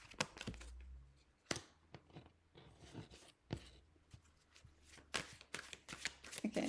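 Deck of coaching oracle cards being shuffled by hand, a run of quick papery riffles and slaps with short pauses between bursts, close and fairly quiet, with no talking.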